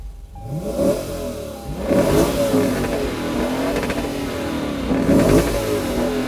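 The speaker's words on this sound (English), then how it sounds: "I'm going to start the engine." A 2016 Lexus GS F V8 engine fires up and revs loudly, climbing in pitch several times before settling into a steady, throaty running sound nearby.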